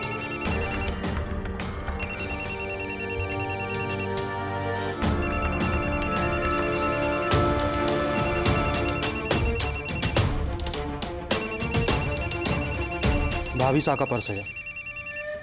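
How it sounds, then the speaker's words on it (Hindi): A mobile phone ringtone plays a looping electronic melody loudly throughout, with a person talking over it. "इसी में रखे इनके फोन की घंटी बज रही है।"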